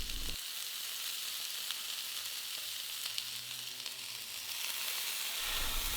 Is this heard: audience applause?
no